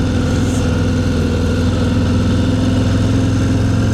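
A Harley-Davidson Low Rider ST engine idles in traffic, its loud, steady, throbbing V-twin rumble continuing unbroken and close up throughout.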